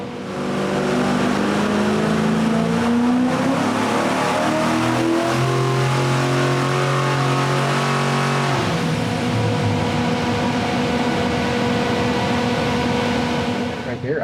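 A Hemi engine in a streamliner revs hard and continuously, its tone climbing and then holding as it struggles to rise past about 5,000–5,500 rpm, loud and close throughout.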